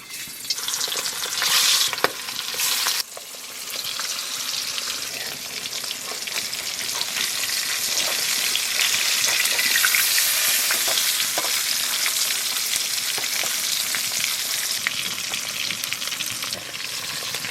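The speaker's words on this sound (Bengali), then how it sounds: "এবার মাছগুলো ভেজে দেবো।" Pieces of pangasius fish frying in hot oil in a pan, a loud continuous close sizzle that swells in the middle, with scattered pops and a few utensil scrapes, and no talk.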